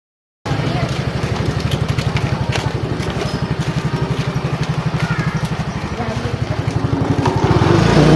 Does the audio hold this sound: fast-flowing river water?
no